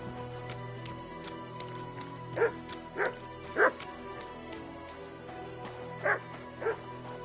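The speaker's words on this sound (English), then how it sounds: "Here, Mutt!" Several short dog barks and yips in the video game Kingdom Come Deliverance 2, spaced irregularly over a steady low ambient hum, moderately close and distinct, with a man calling out between them.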